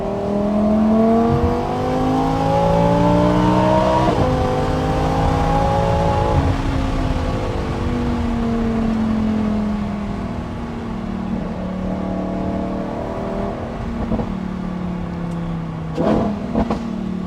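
A Lamborghini Huracan Technica V10 with a titanium exhaust revs repeatedly, rising and falling in loud, throaty sweeps, then settles into a rumbling idle with crackling burbles.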